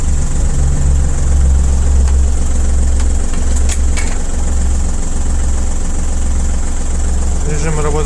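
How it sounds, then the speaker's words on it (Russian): An ISEKI TU275 cab tractor's diesel engine runs at a steady, smooth idle, a continuous low drone with a few faint clicks over it near the end. "Достаточно ровно и спокойно работает двигатель."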